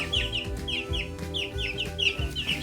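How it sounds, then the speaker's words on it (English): Baby chicks in a brood of twenty-two give high, rapid peeps that repeat in steady bursts, loud and close, over low clucking and rustling, with no talk. "I have 22 baby chicks, and I just checked all of them, and 6 are dirty."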